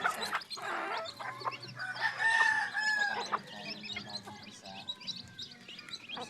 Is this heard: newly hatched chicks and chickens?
yes